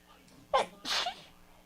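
A single sharp sneeze, close and fairly loud, with a quick intake followed by the burst, in an otherwise quiet room.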